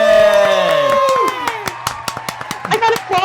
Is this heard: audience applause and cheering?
yes